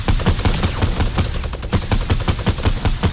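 Rapid bursts of automatic gunfire in the Fortnite video game, loud and dense, with repeated sharp shots rattling nonstop through the whole stretch.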